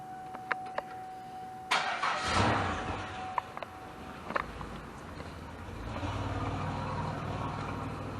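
A car with no catalytic converter cranks and starts after a beeping chime, then settles into a steady, close idle. Clicks and rustles sit in the background.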